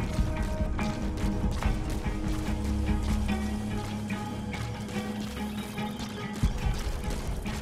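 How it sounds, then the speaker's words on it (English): Horse hooves clop in the Metal Gear Solid 5 video game, a quick rhythmic trot under clanking game mechanisms and background effects, fairly faint with no talking. "My horse is here."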